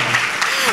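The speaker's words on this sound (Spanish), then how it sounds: "Dale un aplauso al Señor." A church congregation applauds in a brief, dense wash of clapping, with a voice speaking over it.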